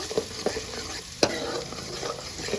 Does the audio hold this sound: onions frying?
yes